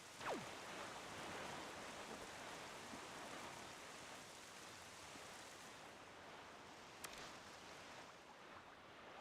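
Steady, dense rain hiss in the video game The Legend of Zelda: The Wind Waker fills the scene without pause, with a few brief sharper chirps and clicks rising above the downpour.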